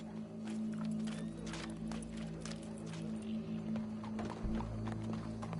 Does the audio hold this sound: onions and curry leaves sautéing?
no